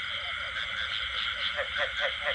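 A night chorus of frogs in rural southern Vietnam, the croaks layered and continuous. Several louder, closer calls pulse rhythmically toward the end over the steady background chorus.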